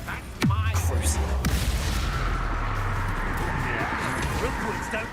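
In the Hogwarts Legacy video game, a Bombarda spell goes off as a sudden booming blast with a falling sweep. Rumbling battle effects follow, and a voice speaks over them.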